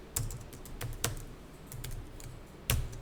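Keystrokes on a computer keyboard while entering a formula in a spreadsheet, a run of irregular clicks with a few heavier key presses, close and alone with no talking.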